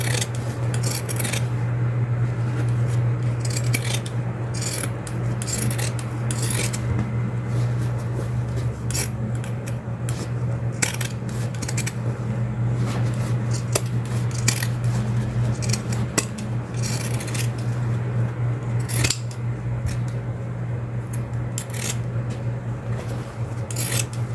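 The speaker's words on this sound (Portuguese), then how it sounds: "agora vamos fazer o corte aqui em volta com a tesoura de picote" Pinking shears snipping around sewn felt for an Easter bunny door decoration, a steady run of crisp, close metallic cuts and rubbing against a constant low hum, with no talking.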